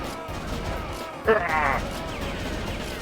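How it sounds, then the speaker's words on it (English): Gunfire in the arcade light-gun shooter Virtual Cop 2, busy rapid shot effects and impacts layered over game noise, with one brief louder burst in the middle as someone talks over it. "It changed like the shot sound of your gun and the enemy grunting"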